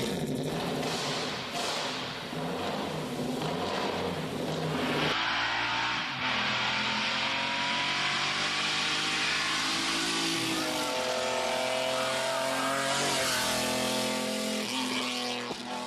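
A 700 horsepower BMW X5 LM race engine roars continuously at close range, revving and shifting pitch as it accelerates, with a thud near the midpoint and a loud, dense tone throughout.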